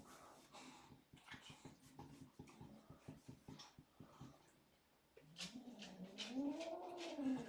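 A stressed, bothered kitten mews and whines in drawn-out, wavering cries that build toward the end, following a stretch of faint clicks and shuffling indoors.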